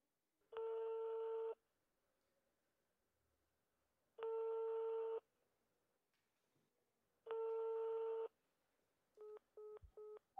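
Telephone ringback tone repeating three times in slow, even bursts with silent gaps, followed by a quick run of short dialing beeps; clear and isolated with no voices.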